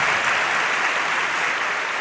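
Spectators at a Rubik's Cube world championship 3x3 final keep clapping, a steady, moderately loud crowd applause sustained for a couple of seconds without speech.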